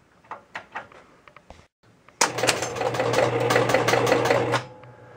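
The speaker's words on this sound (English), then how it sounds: "So I'm going to hit the reset button on the machine." An electromechanical pinball machine resets after its reset button is pressed. A few sharp clicks are followed by a couple of seconds of steady, dense mechanical chattering and whirring from relays and motors, close and clear, with no talk.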